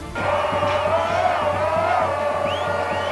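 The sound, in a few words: crowd celebrating in the streets of Jerusalem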